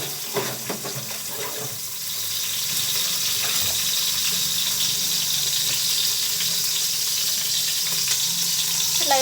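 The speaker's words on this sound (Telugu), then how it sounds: "ఆనియన్స్ వేసుకున్న తర్వాత మొత్తం మిక్స్ చేయాలి ఫ్రెండ్స్" Onions for potato biryani fry in hot oil, a loud continuous hiss and crackle that swells after the first couple of seconds, with some stirring clatter at the start.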